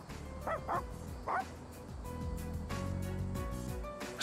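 A collared dog in the video game Persona 3 Reload gives a few short yips and barks near the start, followed by whimpering and game music with faint background tones.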